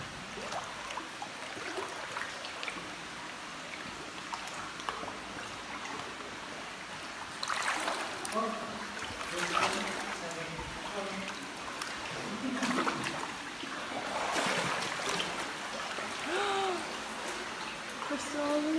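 Water flows and trickles over rock inside a stalagmite cave, a steady faint rush with occasional splashes, while several people talk and exclaim over it.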